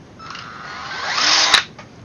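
A power drill, in a setup involving a Stryker SR955, whines upward in pitch as it speeds up to full speed, then cuts off abruptly with a click; a steady close motor sound throughout, no talking.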